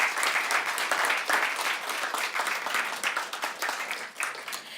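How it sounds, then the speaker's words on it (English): Sustained audience applause fills a crypto industry conference on MiCA regulation at a Tallinn headquarters opening, with dense, steady clapping throughout and no voices on top. "A round of applause for CoinsPaid."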